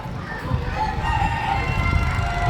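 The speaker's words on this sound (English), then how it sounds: "There's definitely a chicken in there, though." At the Ohio State Fair, a chicken gives soft, drawn-out clucking calls amid a busy, noisy background, moderately close and continuing for a couple of seconds.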